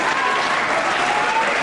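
A crowd at a Hemel Hempstead wrestling bout claps steadily for a brief moment, a dense, even wash of applause.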